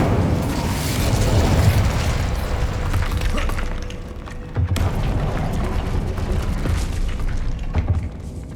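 Incendio fire spell from the Hogwarts Legacy video game: a roaring burst of flame with booming low rumble, dipping briefly midway then flaring again with crackling pops, loud and sustained over several seconds.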